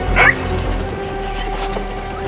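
A wild, homeless rescued puppy makes a short, high yelp. Low growling and whimpering follow under a steady background rumble.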